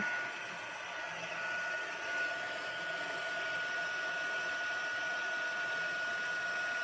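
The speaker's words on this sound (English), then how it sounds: "So I'm going to crank up my heat tool. I'm going to heat it up." Heat tool blowing hot air for gilded leafing, a steady close whooshing roar with a faint constant whine, running evenly throughout with no talk.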